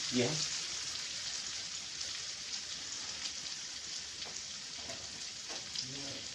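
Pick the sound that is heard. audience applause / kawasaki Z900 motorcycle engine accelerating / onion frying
onion frying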